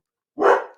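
A dog gives a single short, loud bark close by, a sharp burst that fades quickly, with no other sounds around it.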